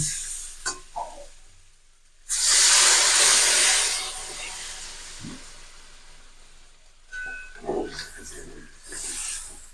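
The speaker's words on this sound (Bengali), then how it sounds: "এবার আমি এর মধ্যে দিয়ে দেবো পরিমাণ মতো জল" Water hits a hot pan of spiced potatoes with a sudden loud hiss that swells and then fades over a couple of seconds, followed by quieter bubbling and a few clinks of stirring.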